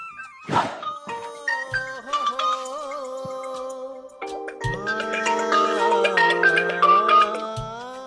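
A phone ringtone plays a bright electronic melody after a soft thump, the tune growing fuller and louder as it rings on.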